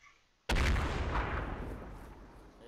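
A demolition charge detonating in ArmA 3: a sudden, loud, close boom after brief quiet, followed by a long rumbling decay that fades over a couple of seconds.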